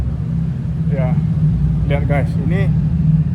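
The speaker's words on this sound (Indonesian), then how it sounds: "suara saya kurang jelas karena banyak mobil, banyak kendaraan" A steady low rumble of passing cars echoes in a long road tunnel in Guanajuato, Mexico, with someone talking over the continuous traffic noise.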